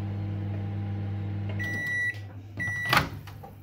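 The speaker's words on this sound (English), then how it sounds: "So just put the kitchen roll, then the toast and the cheese in the microwave." A microwave oven heating cheese on toast set on kitchen roll hums steadily, then its door clunks and a few electronic beeps ring out near the end, close and clear with no talk.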